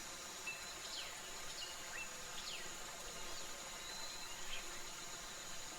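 Jungle ambience played through an avatar: faint continuous insect buzzing and chirping with occasional bird calls, soft and steady, no talking.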